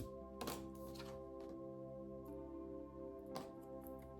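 Tarot cards are shuffled by hand in short soft bursts of riffling and tapping, spaced irregularly over a low steady hum, with no talking.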